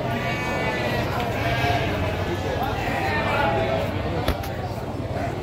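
Sheep bleating at a livestock market in Tanjungsari, Sumedang, with several calls over a busy, steady crowd murmur and a sharp knock near the end.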